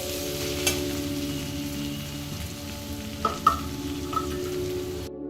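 Garlic paste and slit green chillies fry steadily in a pan for Dhaka-style chicken tehari, with a continuous sizzle and a few sharp stirring scrapes and clinks near the end.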